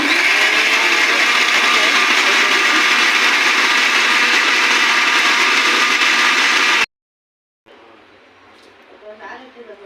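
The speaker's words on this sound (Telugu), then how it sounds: "జస్ట్ అలా కొంచెం మిక్సీ ఆన్ చేసి జస్ట్ అలా 1 మినిట్ కూడా కాదు" A kitchen mixer grinder blends ridge gourd chutney with a loud, steady whirring roar for about seven seconds, then cuts off abruptly; quiet talking follows.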